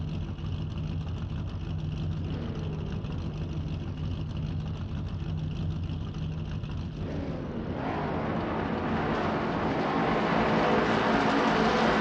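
Racing cars in a Shelby Cobra 351 video game race at Willow Springs International Raceway pull away from the start, a constant engine drone swelling louder and rising in pitch as they accelerate, with no talk.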